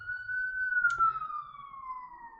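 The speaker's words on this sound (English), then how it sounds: "siren going by" An emergency vehicle siren wails past at a distance as a single long, slowly falling tone, fairly clear above quiet background noise.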